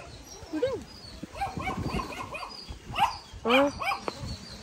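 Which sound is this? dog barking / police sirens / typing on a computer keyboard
dog barking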